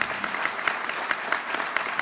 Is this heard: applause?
yes